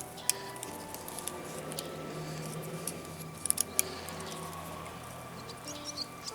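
Bonsai shears snip branches on a hackberry tree, giving several short, crisp clicks at irregular intervals over a steady low background noise, heard close up.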